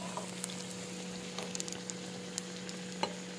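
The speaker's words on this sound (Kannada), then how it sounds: "ಸ್ವಲ್ಪ ಇದು ಫ್ರೈ ಆಗಬೇಕು" Potato pooris frying in hot oil give a steady, soft sizzle with scattered small crackles and pops, close by and fairly quiet, with no talking.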